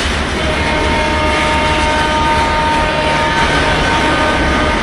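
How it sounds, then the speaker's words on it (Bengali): At Kamalapur station the Padma Express to Rajshahi pulls away at night, a loud, steady rumble with a faint tonal hum and no voices. "কমলাপুর থেকে পদ্মা এক্সপ্রেস ছেড়ে যাচ্ছে রাজশাহীর উদ্দেশ্যে"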